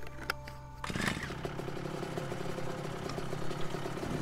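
A gasoline-powered jackhammer engine runs steadily in the survival game The Front, a continuous close mechanical rumble with a rough idling texture after a brief sharper start.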